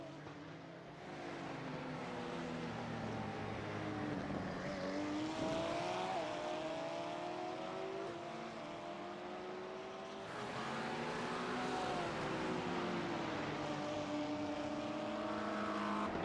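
Porsche race cars running close together at Circuit of the Americas, their engines droning steadily with rising and falling pitch as they pass at a moderate distance, with a second surge of engine noise partway through.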